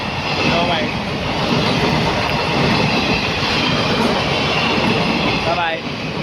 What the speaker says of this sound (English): That's a cargo train.